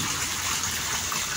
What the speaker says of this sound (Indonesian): Dan juga airnya nanti akan muter